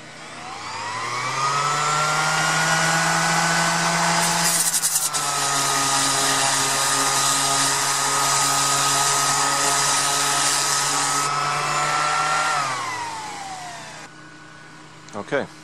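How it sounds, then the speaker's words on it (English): An orbital sander runs on wood, spinning up to a steady high whine that holds for about ten seconds, then winds down and stops with a few clunks. "So when you put the sander in the center, it has time to stabilize itself nice and level like this"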